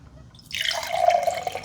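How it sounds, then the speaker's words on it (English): Water poured into a glass, a short rising liquid trickle that starts after a quiet moment, close and soft in a calm indoor setting. "Can I get you a glass of water?"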